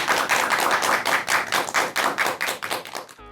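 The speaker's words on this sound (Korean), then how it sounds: "큰 박수 부탁드립니다." Lecture audience at a talk on Buddhism, meditation and psychotherapy bursts into sustained, dense applause, many hands clapping steadily for about three seconds before it abruptly cuts off.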